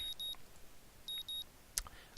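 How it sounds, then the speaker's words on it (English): An alarm clock in a video game rings in short, shrill electronic beeps, sounding in repeated bursts with brief gaps, followed by a sharp click near the end. "a painfully loud ringing assaults my ears, and I realize that it's my clock"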